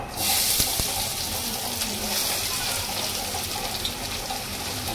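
Finely chopped onion is dropped into very hot oil and starts frying, a loud hissing sizzle that bursts in at once and holds steady and close to the end.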